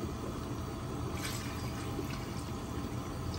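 About 2 litres of water poured steadily into a pot of chicken, a continuous rushing, gurgling pour lasting the whole span, close and alone.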